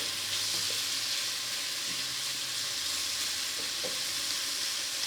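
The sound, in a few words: food sauteing and sizzling in a pan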